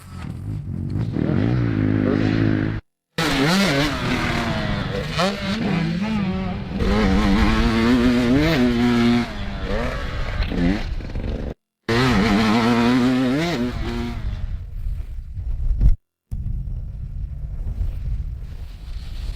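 A motocross motorcycle engine revs hard on a dirt track over jumps, its pitch sweeping up and down with throttle changes, loud and close under heavy wind buffeting, with short drops to silence.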